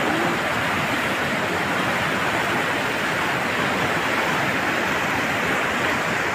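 Cold glacier-fed water rushing steadily on a Gilgit-Baltistan mountain route toward Kargil, a loud, continuous broadband roar with no pauses and no voices.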